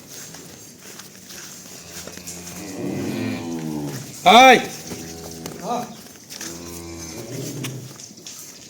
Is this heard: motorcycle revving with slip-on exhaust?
no